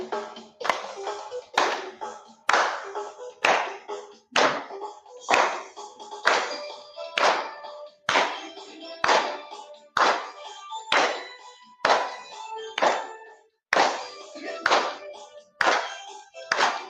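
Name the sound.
schoolchildren clapping hands while singing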